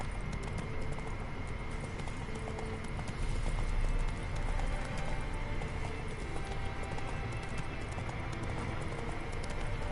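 Steady hoofbeats of a galloping horse in the video game The Witcher 3: Wild Hunt pound on without a break, with a dense, even rumble and a slightly louder burst partway through.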